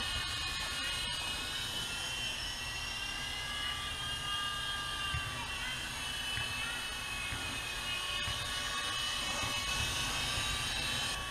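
A GP Toys G610 coaxial 3.5-channel infrared RC helicopter flies at close range, its small motor whining and rotors buzzing in one steady, unbroken drone with no voices.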